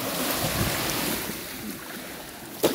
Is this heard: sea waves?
yes